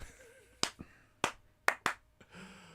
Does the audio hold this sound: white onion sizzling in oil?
no